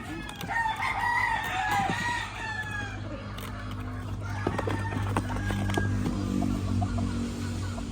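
Gamefowl roosters, stags and pullets from Sabong Pinas stock crowing and clucking outdoors, a drawn-out crow rising near the start, then scattered clucks and rustling over a steady low background hum.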